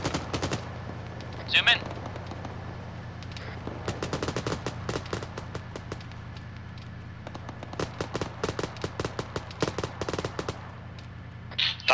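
Gunfire in Arma 3 ground combat at an intersection, sharp bursts of automatic fire and single shots cracking in irregular clusters over a low steady hum, with someone talking on voice chat in between.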